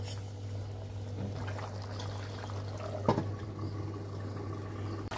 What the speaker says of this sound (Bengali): এই পর্যায়ে এসে এখন আমি একটু ঝোল দিব অল্প পরিমাণ।